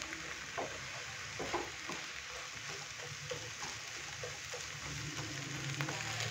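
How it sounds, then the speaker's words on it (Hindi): Egg sizzles and fries in a pan while a spoon breaks it into small pieces for egg chow mein noodles, a steady close crackle with light scraping taps throughout. "मैं ये देखें पैन के अंदर ही इस तरीके से इसके छोटे छोटे पीसेस अभी ही कर लूंगा"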